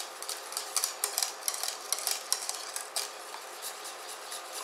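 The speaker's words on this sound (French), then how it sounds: "On va mélanger les derniers morceaux de beurre." Butter being stirred into a thickening beurre blanc sauce in a pan, with quick, close scraping and light clicking of the utensil in an uneven, continuous rhythm and no voices.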